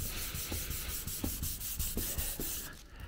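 Rhythmic back-and-forth rasping of a 600-grit sanding block rubbing fresh paint on an Audi A4 B5, steady strokes about twice a second, close and continuous.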